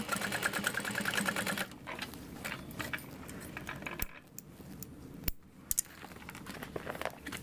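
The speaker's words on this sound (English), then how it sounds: "I'm putting my finger on the flap through my layers and then sewing over it." A sewing machine stitches through layered fabric over a backpack bag flap, a close rapid burst at first, then quieter handling with a few sharp clicks and taps.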